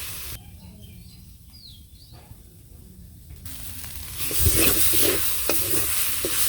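Leafy greens frying in a pan in a village kitchen. Quiet at first with faint bird chirps, then a loud, close sizzling hiss swells up and continues with light stirring scrapes.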